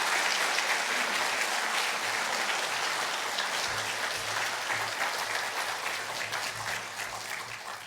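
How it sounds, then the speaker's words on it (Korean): Church congregation applauding to welcome a guest preacher, a dense, steady patter of many hands clapping that carries on for several seconds and gradually thins toward the end, with no speech over it. "우리 한번 축복의 박수 우리 크게 해주시면서 맞이해 주시면 감사하겠습니다."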